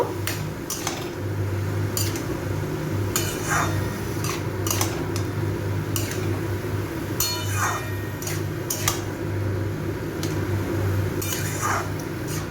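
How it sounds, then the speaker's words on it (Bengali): Banana stem and turmeric stirred in a pan, with a steady low hum underneath and intermittent scraping, clinking utensil strokes throughout. "এই হলুদটাকেও এর সাথে একটু ভালো করে মিশিয়ে নেব"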